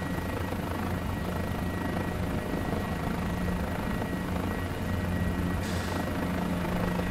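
Guimbal G2 helicopter taking off in Microsoft Flight Simulator 2020, a steady dense rotor and turbine drone with a constant low thrum, loud and close throughout, with no talking.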